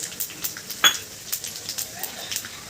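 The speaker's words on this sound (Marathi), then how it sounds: "हे पहा आता मी जिरं टाकून देते।" Cumin seeds dropped into hot oil in a kitchen pan, giving soft crackling sizzle with light clinks of a utensil, brief pops scattered through, close and fairly quiet, with someone talking over it.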